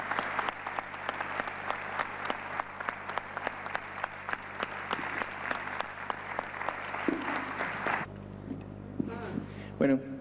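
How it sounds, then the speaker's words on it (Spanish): A conference audience applauding, a dense run of claps that holds steady for about eight seconds, then thins to a few scattered claps near the end under a low room hum. "un fuerte aplauso para los tres"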